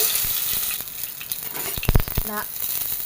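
Mustard seeds and dried red chillies sizzle in hot coconut oil in a pan, a steady close crackle that bursts into a few louder pops and spits partway through.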